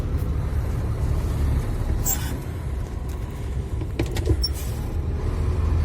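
A truck pulls in beneath a concrete pump on a February construction site, heard as a steady low engine rumble with broadband noise throughout and a few brief metallic clanks.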